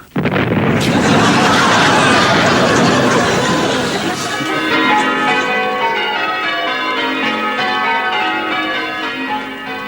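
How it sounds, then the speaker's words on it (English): Church bells ringing loudly after a heavy booming crash, the bell tones sustaining and slowly fading over several seconds with no talking. "Nice to hear the bells again."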